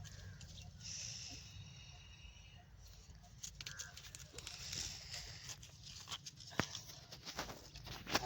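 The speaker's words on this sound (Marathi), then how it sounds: "लईच कावळा आहे" Crows calling outdoors along a roadside during a bamboo-gathering trip, the cawing bursts scattered and moderately distant over a steady low rumble of ambient noise and occasional rustling footsteps.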